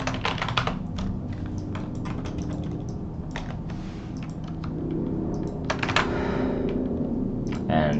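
Close, clicky keystrokes on a computer keyboard during programming, arriving in quick irregular bursts with short pauses between runs.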